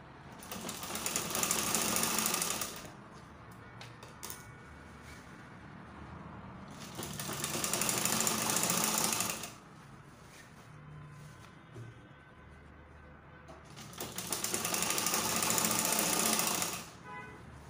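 A sewing machine stitches a box pleat skirt in three loud, steady whirring bursts. Quieter pauses with faint shuffling come between them.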